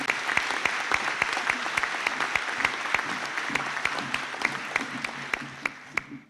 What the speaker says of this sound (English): I ask you now to give the group a round of applause.